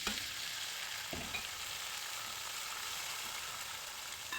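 Onion and tomato frying in a pan while cooking kabsa, a steady close sizzle running throughout with a few soft clinks, no talking.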